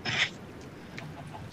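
A chicken in a game clucks in a short burst at the start, then a few faint chirps follow over quiet background noise.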